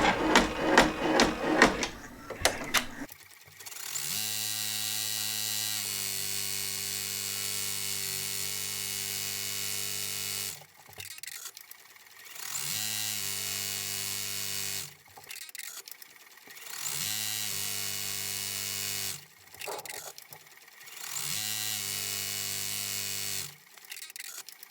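An embroidery machine stitching a paw print onto a polo shirt, producing a close, steady mechanical hum and rapid stitching whir in repeated runs separated by short pauses.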